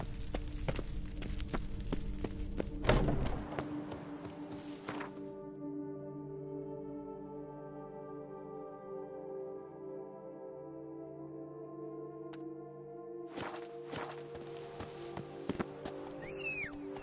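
Hooves of Geralt's horse Roach clip-clop rapidly over ground in The Witcher 3 during a gallop, loud at first, then fading under a steady musical drone before returning near the end.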